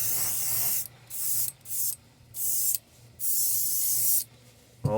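Airbrush spraying blue paint onto a handmade wooden jointed wake bait lure, a series of soft hissing bursts of about a second each, separated by brief pauses, close and alone.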